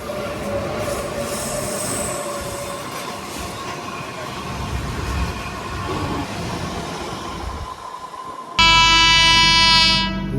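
An oncoming mail train rumbles past a stopped passenger train, with steady clatter and squealing wheels close by. A loud, sustained horn blares near the end.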